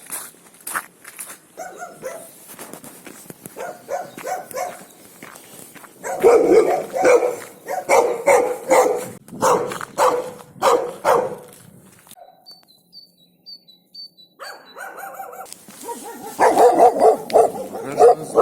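Dogs bark repeatedly in bursts, fairly close, with a few quieter stretches and some footsteps in between, near reed beds at the edge of a settlement.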